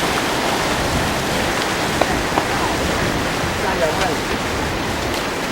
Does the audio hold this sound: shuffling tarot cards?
no